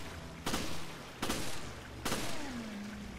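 Resident Evil Revelations game gunfire: three sharp, evenly spaced shots, each with a short decay, then a low descending tone after the last.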